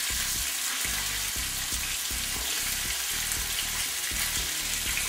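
Fish nuggets frying in a pan give a steady, loud sizzle, with a scraping utensil clattering in rhythmic bursts as the pieces are flipped; no talking.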